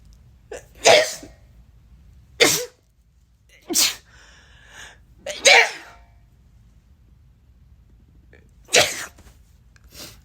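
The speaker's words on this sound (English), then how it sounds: "I have to sneeze" A series of sharp, loud sneezes, about five or six in a row, each a sudden burst separated by short quiet pauses.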